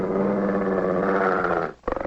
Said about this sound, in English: I'm as fond of dogs as the next guy, but when they attack you, you gotta protect yourself.